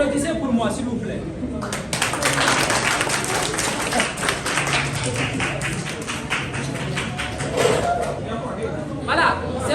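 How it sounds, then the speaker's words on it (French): An audience claps at a ceremony handing over a student office, a crowd of hands applauding steadily for several seconds with murmured voices underneath and the clapping easing toward the end. "Applaudissez pour moi, s'il vous plaît."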